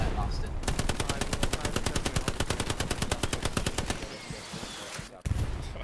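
Sustained machine gun fire from the World War II shooter game Hell Let Loose rattles in a fast, even stream of rounds for several seconds, loud and close, then stops before a final heavy burst.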